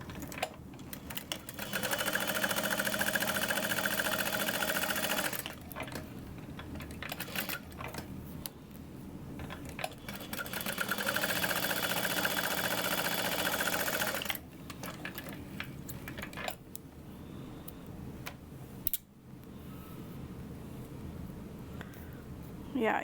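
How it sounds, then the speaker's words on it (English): A sewing machine stitches down either side of a bag in long steady bursts, running for several seconds, pausing briefly, then running again, with short gaps between passes and no talk. "I'm gonna stitch down either side"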